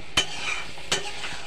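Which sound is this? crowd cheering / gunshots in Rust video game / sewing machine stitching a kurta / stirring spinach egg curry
stirring spinach egg curry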